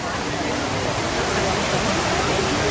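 Water rushing along the Grizzly River Run river rapids ride at Disney California Adventure, a dense, steady roar with no breaks from start to end.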